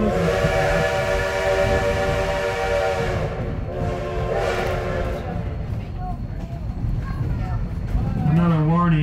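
A steam locomotive on the Huckleberry Railroad sounds its whistle as a warning signal: a loud, sustained, multi-toned blast lasting several seconds that fades, followed by a shorter, softer whistle toward the end.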